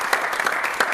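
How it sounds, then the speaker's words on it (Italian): Brief burst of studio applause from a small group during a futsal television program, a second of quick clapping. "ci vuole un applauso qui"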